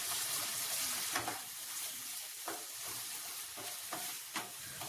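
A chilli egg sauce of chilli sauce, soy sauce and a little water fries on a medium flame, giving a soft, steady sizzle with several distinct stirring scrapes spaced a second or so apart.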